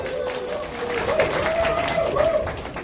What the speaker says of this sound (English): Can you give a round of applause for her?